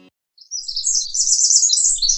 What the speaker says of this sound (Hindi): कितनी मधुर आवाज है इस पक्षी की, सुनते ही सारी थकान मिट जाती है।